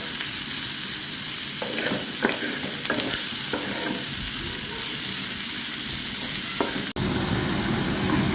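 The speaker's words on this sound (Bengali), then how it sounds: "পেঁয়াজগুলো আমি হালকা ভাবে ব্রাউন কালার পর্যন্ত করে ভেজে নিব।" Chopped onions frying in a pot until light brown, a steady close sizzle with several sharp stirring scrapes and clinks through it, no talk.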